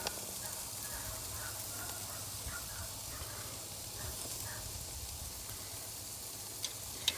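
Halved lobster tails sizzle over hot coals beside steaks on a Ñuke Delta grill, a steady soft hiss with a few faint pops and a small clack near the end.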